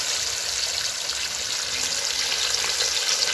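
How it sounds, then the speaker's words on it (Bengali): Marinated meat fries in a pan at an outdoor picnic, a dense, loud and continuous sizzling hiss with no pauses. "প্রথমেই মাংসগুলোকে সব ভেজে নেবো"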